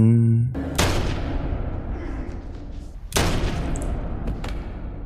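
Two sharp gunshots from behind ring out a few seconds apart in the film Watcher (2022), each a loud broadband crack trailing into a noisy decay.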